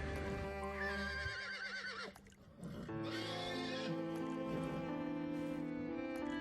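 Black horses with red eyes in the video game Dracula Origin neigh and whinny loudly in a long, wavering call, then break into further overlapping whinnies after a brief pause, with no talk over them.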